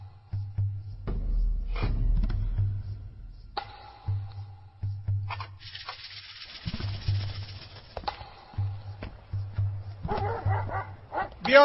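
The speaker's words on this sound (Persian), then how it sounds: "بیا سگی وفادارم" A dog in a dramatic film scene gives a run of short barks, yips and whimpering whines that come and go over several seconds, set against a low, steady background hum and other scene noise.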